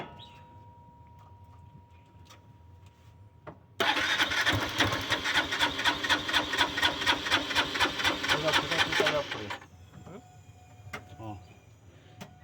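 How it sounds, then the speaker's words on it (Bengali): A faulty engine leaking gas through its air filter suddenly fires up and runs for about five seconds with a rapid, rhythmic pulsing chug, then cuts off, leaving quiet background noise. "ইঞ্জিনটা খারাপ আছে, গ্যাস বেরিয়ে যাচ্ছে।"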